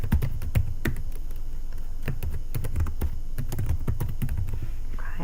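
Fingers type on a computer keyboard in quick, uneven bursts of sharp clicks with short pauses between runs, close and clear with no voices.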